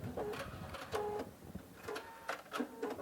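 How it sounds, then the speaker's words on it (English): A Husqvarna Viking Topaz sewing machine topstitches a jeans hem in short, faint bursts of rapid mechanical whirring separated by brief pauses. "Okay, so we just did some top stitching."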